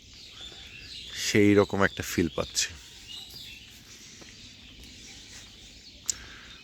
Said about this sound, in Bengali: পাখির কলকাকলি, কিচিরমিচির শব্দ